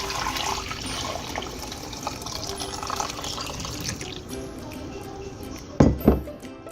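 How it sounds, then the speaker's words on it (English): Homemade vegetable broth pours steadily and splashes into a strainer, a continuous wet rush close by, ending with a couple of louder knocks. "And I'm going to pour right into the strainer."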